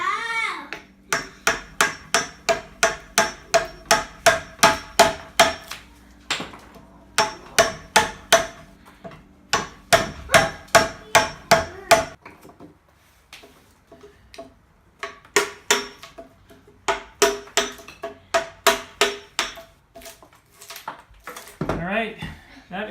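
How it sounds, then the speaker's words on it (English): A mallet drives a chisel into the wood of an Indian coastal canoe being carved by hand. The sharp knocks come close and loud in quick rhythmic runs, with short pauses between the runs. "You can see I've got quite a bit more to chisel off."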